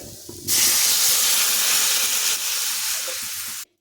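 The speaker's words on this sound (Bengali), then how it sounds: "এখন এর মধ্যে দিচ্ছি জল" Water is poured into a hot pan of mango pieces for Bengali amjhol, setting off a sudden loud, steady hiss and sizzle that lasts about three seconds and then cuts off abruptly. No one speaks.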